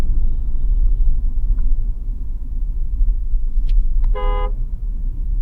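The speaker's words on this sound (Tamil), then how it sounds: "ஹார்ன் நல்லா லவுடாக நமக்கு வந்துருக்கு." A short horn blast from a Mahindra Thar Roxx sounds near the end over a steady low engine rumble, loud and close.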